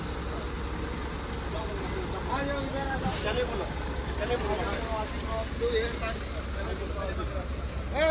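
Trucks, buses and cars stuck in a long traffic jam on the road to Ayodhya: a steady low engine rumble with a brief horn blast and air-brake hiss, while people talk and shout nearby.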